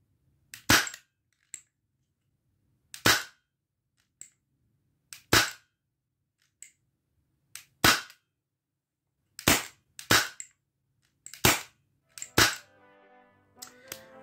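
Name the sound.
four shots from Umarex Beretta 92 FS XX-Treme air pistol with silencer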